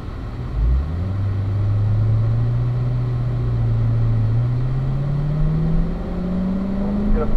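A car accelerates onto a race track and shifts up to third gear, its engine droning loud and close as the pitch climbs steadily throughout one continuous pull.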